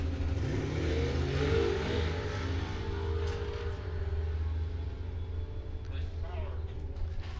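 A 1971 Camaro small-block drag car on E85 accelerates down the strip at a dragway, its engine note climbing and fading into the distance under a track announcer's voice.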